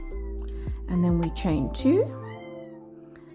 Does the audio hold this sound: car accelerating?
no